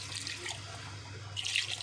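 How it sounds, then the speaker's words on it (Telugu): Water poured from a tap-like stream over curry pieces in a cooking pot, a steady close splashing wash that swells louder near the end, with no voices. "ముక్కలు మునిగేదాకా వాటర్ పోయాలి"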